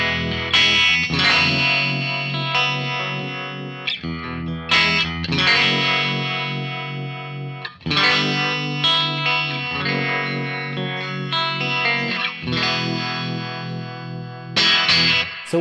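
Electric guitar runs through a preamp pedal straight into a Hiwatt amp, playing distorted chords in sustained phrases with short breaks between them, loud and close.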